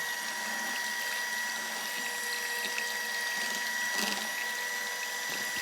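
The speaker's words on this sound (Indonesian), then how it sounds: "Kocoklah adonan dengan menggunakan mixer selama kurang lebih 5-10 menit atau sampai benar-benar halus." An electric mixer beats palm sugar batter for kue cucur, giving an even, continuous motor whir with a high steady whine that holds unchanged throughout, close and with no one talking.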